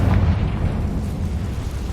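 The Confringo fire spell from the video game Hogwarts Legacy goes off as a loud, booming blast. A heavy, rumbling explosion fills the whole two seconds, with no voices over it.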